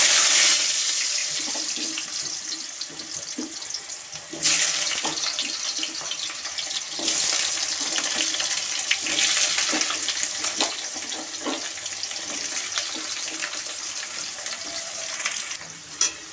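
Potato pieces fry in hot oil in a kadai, a steady close sputtering hiss with crackles running throughout, swelling louder at moments as the pieces are added or stirred; no one speaks.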